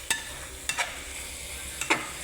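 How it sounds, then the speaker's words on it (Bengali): Dried fish (shutki) frying in a pan, with a steady hiss of oil and three or four short scraping stirs from a spatula, close and alone. "আমরা এটা পার্সোনাল করতেছি শুটকি ভাজি।"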